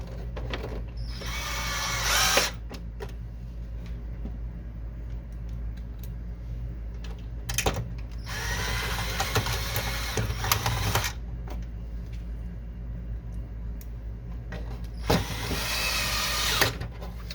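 A powered screwdriver whirs in three bursts, each lasting a second or two, as screws are driven back into an HP ENVY printer, with quiet handling clicks and a steady hum between.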